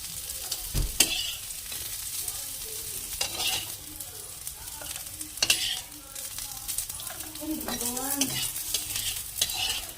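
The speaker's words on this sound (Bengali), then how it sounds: "আমার উচ্ছেটা ভাজা হয়ে গেছে এটাও তুলে নিই" Bitter gourd frying in a pan while it is stirred, a steady sizzle broken by repeated scraping and clinking of the spatula against the metal, fairly close and moderate in level.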